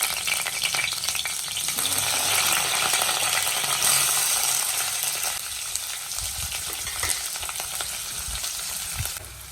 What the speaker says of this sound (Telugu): ఉల్లిపాయలు వేగుతుంటే ఉల్లిపాయలతో పాటు గోరుచుక్కుడుకాయలు కూడా వేసేస్తుంది